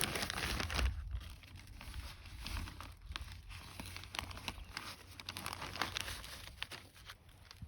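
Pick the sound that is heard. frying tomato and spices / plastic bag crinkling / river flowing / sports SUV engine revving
plastic bag crinkling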